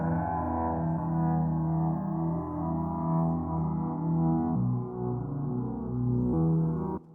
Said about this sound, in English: Then this abstract, heavily processed chord here, which is a very unstable pitch.